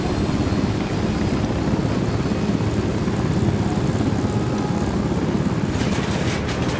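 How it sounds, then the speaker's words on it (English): A helicopter in an action video game flies close by, a steady, loud rotor and engine drone that holds throughout with no break. "Oh, you got the chopper, cool."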